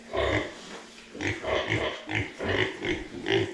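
Two young piglets, about two months old, grunt in short, rhythmic bursts close by, a string of low snuffling oinks repeating every half second or so.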